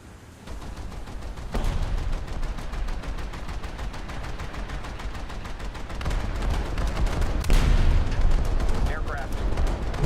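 Naval guns fire in a coastal battle in a game, dense rapid gunfire and heavy shell blasts rolling on continuously, growing louder toward the end, with a voice talking over it.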